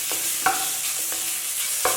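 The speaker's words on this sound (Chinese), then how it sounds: "锅内不用加油，放入切好的五花肉片翻炒" Sliced pork belly stir-frying in a dry wok with no oil, a constant bright sizzle broken by a few sharp spatula scrapes and tosses, close and alone.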